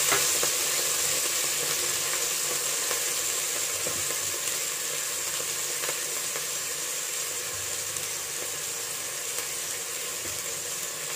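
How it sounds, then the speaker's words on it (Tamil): Elephant foot yam cut into long strips sizzling in hot coconut oil in a pan, a steady, close, bright frying hiss with small crackles running without a break. "ஒரு பாத்திரத்தில் தேங்காய் எண்ணெய் ஊற்றி எண்ணெய் சுட்ட உடனே சேனை கிழங்க நீட்டு வாக்கில் வெட்டி அதை போடணும்"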